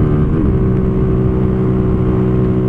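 A Brazilian motovlogger's own motorcycle, ridden at about 120 km/h in fourth gear, drones close and loud with a steady engine hum, pitch rising slightly at the start.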